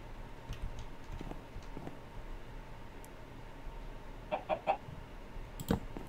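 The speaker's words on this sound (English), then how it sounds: "He's my pet chicken." A chicken in the Minecraft video game clucks a few short times near the end, quiet against a low steady background hum, with no talking.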